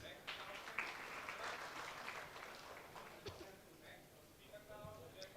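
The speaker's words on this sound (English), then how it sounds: "A huge round of applause," Audience applause at an international diabetes and obesity medical congress, a moderate wash of clapping with some voices over it, fading slightly toward the end.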